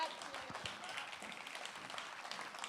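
Crowd applause for Franca Pinna at a televised traditional singing show gives a steady, fairly quiet patter of many hands clapping with a few sharper claps near the start.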